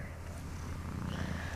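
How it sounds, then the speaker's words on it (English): A cat purrs close up in a steady, low, continuous rumble that holds through the whole moment, with no talking over it. "he's a kitty actually, he's a cat"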